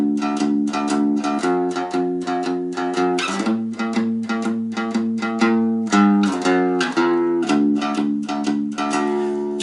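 Steady plucked notes on a one-string cigar box guitar, with the second line played open. Bright, twangy picking in a rhythmic pattern, up close and loud with no talking.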